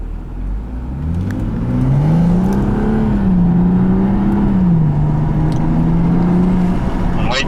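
Car on a test run at 40 miles per hour: a loud, close engine drone that rises in pitch as the car accelerates, then holds a steady whirring tone before easing off. Faint voices may sit beneath it.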